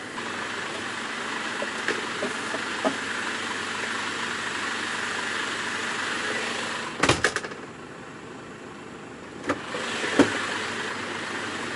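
Cab noise from a cargo truck on the move: a steady broadband rumble of engine and road, with a few clunks and a brief rattling burst partway through, heard from inside and fairly loud.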